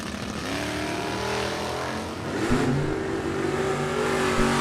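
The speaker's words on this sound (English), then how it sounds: "Chris Wicker, left lane, 76 Buick, down with the 714." A 1976 Buick and a 1978 Ford drag racing launch off the line at a Super Pro test-and-tune event, loud engines revving and building to a steady roar, with no voices.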